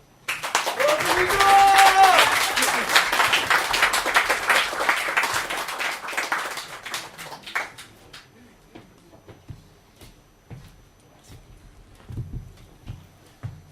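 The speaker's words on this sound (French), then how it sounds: "Je vous demande de l'applaudir." An audience at an inauguration evening applauds, a loud crowd of clapping that swells quickly and then thins into scattered claps over several seconds, with talk emerging faintly as it fades.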